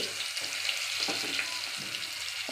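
Steady sizzling and crackling of stuffed bitter gourds frying in hot oil in a wok, continuous and close, with faint clinks of stirring.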